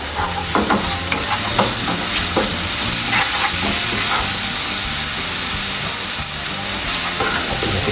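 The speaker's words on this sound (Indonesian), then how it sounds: "lalu kita masukkan nih si bumbu dasar tadi ya, ulekannya ya." Ground spice paste for mie godog frying in a hot pan, a loud dense sizzle that holds steady throughout, with repeated scraping stirs and small crackles.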